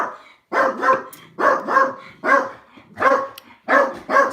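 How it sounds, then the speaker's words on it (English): Small dogs bark repeatedly in short paired bursts, close and loud, with brief gaps between volleys and no talk over them. "There's nothing I can do about the barking."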